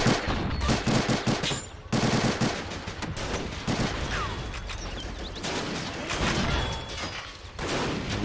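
Dense WWII battle gunfire from Men of War: Assault Squad 2, a US Marines defense against a Japanese banzai charge on Saipan, 1944, with overlapping machine-gun bursts, rifle shots and occasional booms, loud and chaotic.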